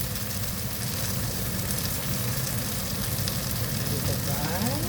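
Pork chop frying in a little oil, giving a dense, steady sizzle and crackle that runs loud and close from start to finish.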